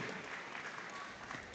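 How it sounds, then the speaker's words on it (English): An audience at the Nebraska State Fair FFA market beef show applauds the champion, a steady, dense wash of clapping from a crowd that holds evenly throughout with no talk over it. "Let's give her a round of applause."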